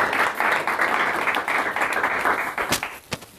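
Lecture audience clapping to welcome a speaker at a talk on the Mudejars and Moriscos of al-Andalus, a full, even burst of applause that thins into a few scattered final claps.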